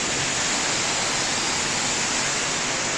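Water spray washing a truck at a driver training yard, a steady loud hiss that runs unbroken throughout, with no voices.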